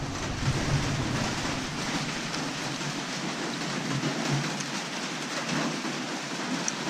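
Steady rain falls through the whole stretch, a dense, even hiss of drops on surfaces with a soft low rumble beneath, fairly close and continuous, with no voices.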